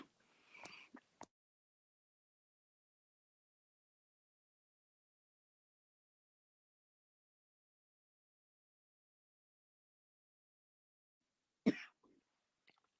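A person coughs indoors: a quick cluster of coughs at the start, a long silence, then one sharper cough near the end, all faint and close.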